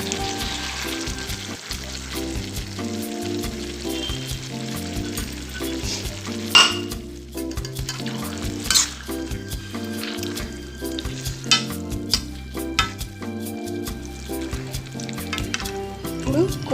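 Dried prawns and gongura leaves sizzle and fry in oil, a steady crackle broken by repeated stirring clinks and scrapes from a spoon against the pan, with no talk.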